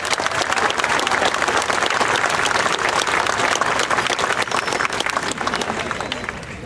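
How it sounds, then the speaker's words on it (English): Graduation ceremony audience gives a dense, sustained round of applause that stays loud and steady, tapering slightly toward the end. "Let's give him a round of applause."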